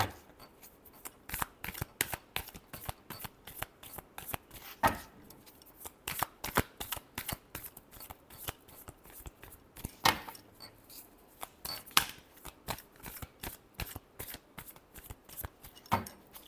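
Tarot cards being shuffled by hand, a long run of quick crisp riffling snaps and slaps in uneven bursts, close and fairly quiet, with no voices.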